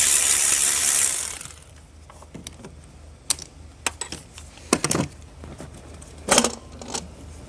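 A ratchet loosening a starter bolt on a Chevrolet Cruze engine, scattered sharp clicks and short rasping bursts after an initial noisy stretch, close and fairly loud.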